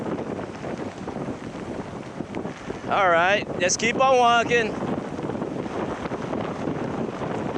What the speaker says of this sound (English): Whoa, that's a gust.